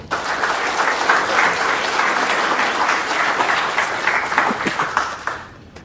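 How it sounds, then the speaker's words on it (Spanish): A crowd applauds warmly and steadily for several seconds, the dense clapping thinning out slightly toward the end. "pido un fuerte voto de aplauso"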